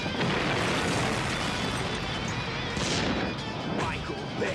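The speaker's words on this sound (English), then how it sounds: "Michael Bay presents Explosions" Loud explosions from The Matrix Awakens Unreal Engine 5 game demo: a dense, sustained crashing roar with booming debris and bursts, filling several seconds with no talking.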